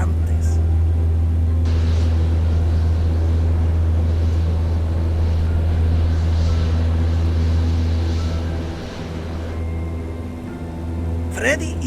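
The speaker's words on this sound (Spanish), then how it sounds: "algo mágico sucedió y el avión estaba volando como nunca antes" A small airplane drones steadily as a story sound effect, a loud continuous low engine rumble that holds throughout and eases slightly near the end.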